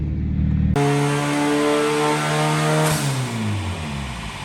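A turbocharged Honda CR-V fitted with a 58 turbo and MSD ignition pulls hard while driving, its engine note climbing steadily, then dropping at a gear change and rising again, loud and close with no voices.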